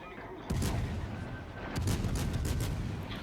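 Battleship guns firing shells in the World of Warships Legends naval game, heavy booming volleys that roll into one another under a continuous rumble, loud and close, with a second broadside hitting partway through.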